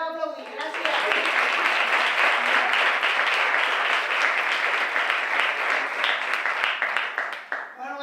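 An audience at an award ceremony breaks into loud, sustained applause that begins after a brief voice, holds dense and even for several seconds, then tapers off near the end.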